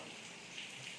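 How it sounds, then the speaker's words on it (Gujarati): Steady rain falls in Morbi, a soft, even hiss of drops with no voices, heard faint and continuous throughout. "વરસાદ જેવો આવે છે."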